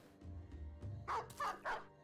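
A dog in the video game Battle Brothers gives three quick barks in succession, moderately close, following some softer low thumps.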